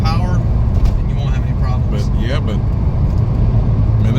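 A 650+ hp Porsche 991 Turbo, all-wheel drive, driving on the road, heard from inside as a steady low engine and road rumble with no breaks, joined briefly by faint higher tonal sweeps.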